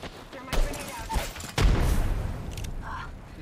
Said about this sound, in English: I'm gonna throw nades.